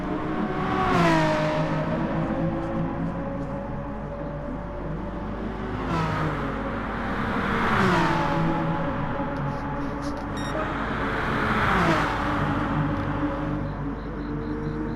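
Racing cars, two Hyundais and a BMW, rev hard and sweep past in a series of loud engine surges at Fuji, rising and falling in pitch with gear changes, roughly every few seconds.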